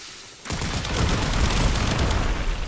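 Alternate fire of the Bubonico weapon in Warframe erupts after a short quiet lead-in, a loud continuous rapid stream of shots with a heavy low rumble sustained to the end.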